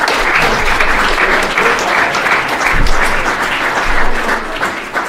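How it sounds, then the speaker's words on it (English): An audience at a Boys State basketball pregame event gives the players a loud, sustained round of applause that swells slightly near the middle and the end. "Give them a round of applause."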